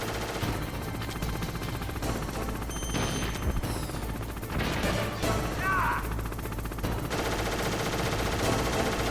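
Machine-gun fire from Liquid's helicopter in Metal Gear Solid on PS1, dense rapid bursts with crashes and impacts mixed with game effects, continuous throughout.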